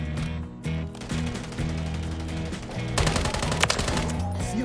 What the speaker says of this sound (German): Werde hier beschossen!